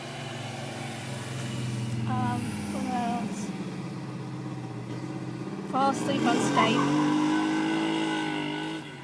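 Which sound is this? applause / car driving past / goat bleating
car driving past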